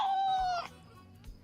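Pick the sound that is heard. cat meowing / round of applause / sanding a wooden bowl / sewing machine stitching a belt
cat meowing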